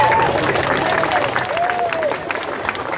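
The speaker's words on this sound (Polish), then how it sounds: "Wielkie brawa dla kolegi za odwagę!" A crowd at a public gathering about internet censorship breaks into loud, sustained applause, with voices calling out over the clapping throughout.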